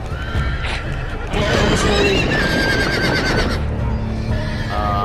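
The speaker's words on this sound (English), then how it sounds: "Those are horses." Horses in the video game Game of Thrones on PS4 neigh loudly several times over a dense rumble of hooves and action noise, the whinnies rising and overlapping.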